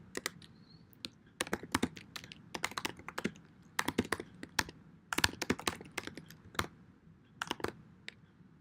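Keys clatter on a computer keyboard as a project name is typed into an Eclipse IDE setup dialog, a close, uneven run of quick clicks in short bursts with brief pauses, with no talking over it.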